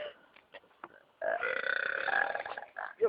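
Burping from Italian friends, a few short gulping burps followed by one long, loud, sustained belch, then a final short burp near the end, close and alone.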